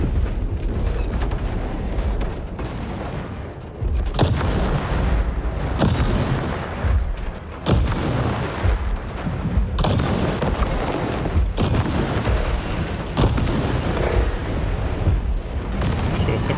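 Autocannon fire in the War Robots Frontiers mech game, dense booming and crackling shots thudding again and again over a constant roar of battle, loud and close throughout.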